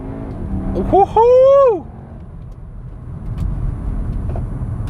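A Cupra Formentor's engine gives a loud, rising rev burst as it accelerates hard after a paddle downshift, then cuts off abruptly. A voice whoops over the engine note, and low road rumble continues afterward.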